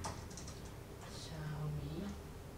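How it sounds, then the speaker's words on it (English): Typing on a Xiaomi MIIIW Bluetooth wireless keyboard, a few soft close key taps near the start, then a quieter stretch with faint background sound and brief low murmur. "Bluetooth keyboard."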